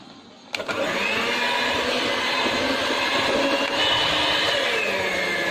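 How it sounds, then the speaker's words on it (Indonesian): A stand mixer starts abruptly and runs at its lowest speed, kneading donut dough with a steady, loud motor whir that holds evenly throughout. "Kita mixer kembali, masih menggunakan kecepatan terendah."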